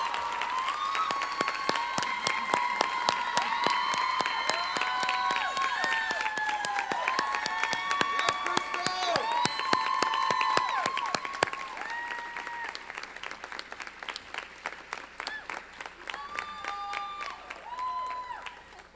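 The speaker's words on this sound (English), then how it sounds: "Give her a round of applause." An audience at a 2019 graduation ceremony gives a sustained round of applause, dense and loud throughout, with cheering voices and whistle-like tones mixed into the clapping before it thins slightly toward the end.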